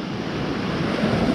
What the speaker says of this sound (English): The waves were like really booming as I was hitting the shore